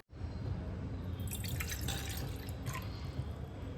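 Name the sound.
water being added to a bowl of oats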